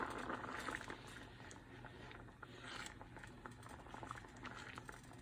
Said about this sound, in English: it's already starting to boil